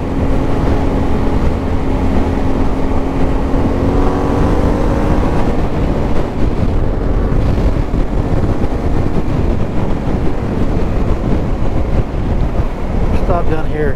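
A motorcycle carrying a 15-liter luggage bag rides fast at full throttle. Steady, loud wind roar buffets the microphone and covers a droning engine note throughout.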